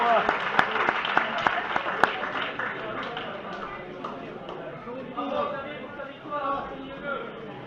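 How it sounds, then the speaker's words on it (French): Audience applause for women's series winners at a 2018 trophy presentation, with sharp individual claps at the start that give way to lighter clapping mixed with crowd chatter and voices. "on peut les applaudir."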